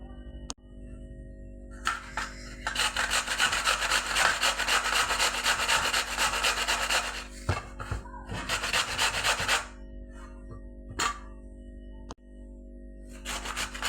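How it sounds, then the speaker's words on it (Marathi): Fresh beetroot rubbed against a hand grater in a home kitchen, giving long rasping bursts of steady scraping with short pauses between strokes, close and fairly loud, with no talking. "तर आता आपण बीट किसून घेऊ"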